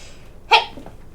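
A single sharp sneeze bursts out near the middle, brief and fairly loud against quiet room tone, followed by a faint trailing breath.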